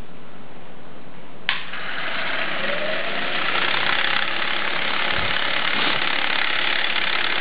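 A motor-driven Lego plate-and-wheel CVT mechanism with a flywheel switches on with a click and then runs as a steady, close mechanical whir that holds level to the end, with no talking.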